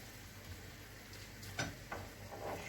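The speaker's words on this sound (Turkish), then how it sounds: "Şu şekilde bunu pirincimle de kavuracağım." Rice sizzles gently in a pan with leeks as it is sautéed and stirred, a soft steady frying hiss with a few light scrapes, quiet and close.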